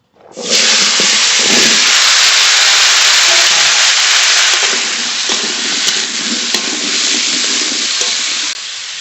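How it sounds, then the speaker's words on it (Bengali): Kohlrabi dropped into oil already used for frying fish bursts into a loud, close sizzle that starts suddenly and holds steady, with light stirring and clatter underneath. "তরকারি রান্না করব এই মাছ ভাজা তেলের মধ্যে কফি দিয়ে দেবো"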